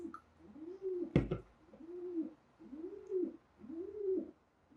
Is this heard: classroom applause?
no